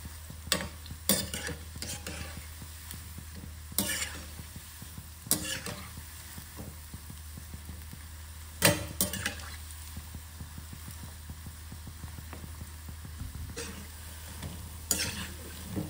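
Spinach bondas frying in hot oil over low heat are turned in the pan, and the soft steady sizzle is punctuated by sharp metallic clinks and scrapes from the ladle.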